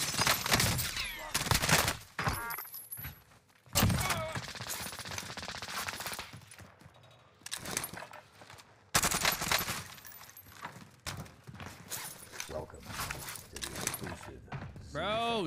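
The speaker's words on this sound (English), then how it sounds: "Stop fucking shooting me" Rapid bursts of video game gunfire, loud and close, alternating with pauses as players talk excitedly over the shooting.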